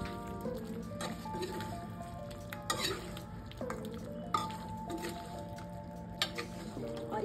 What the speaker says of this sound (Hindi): बाद हम इसे एक बार फिर से चला लेंगे।